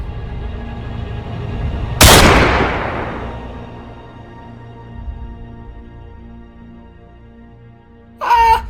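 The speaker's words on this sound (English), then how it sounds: "The Topham hat's been shot!" A single loud gunshot cracks out sharply, its noisy blast decaying over about a second, followed later by a brief voiced outburst near the end.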